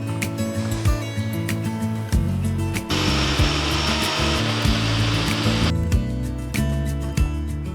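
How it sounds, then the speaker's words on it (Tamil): A kitchen mixer grinder whirs loudly as it grinds small peeled carrot pieces in its jar into a fine paste, the motor pitch shifting in surges and easing back over several seconds. "சின்ன சின்ன பீசஸாக கட் பண்ணி மிக்சி ஜாரில் போட்டு நைஸான பேஸ்ட்டாக அரைச்சி எடுத்துக்கலாம்"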